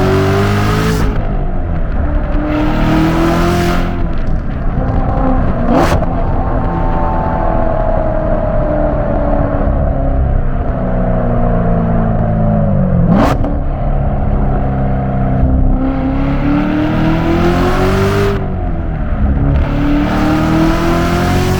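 Interior sound of a 650-horsepower 2017 Corvette Z06 as it accelerates through gears, a loud rising engine note with repeated climbs and sharp shift breaks, close and continuous.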